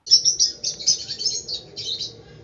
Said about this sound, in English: The first bird that I chose as a good apartment bird is none other than the lovebird.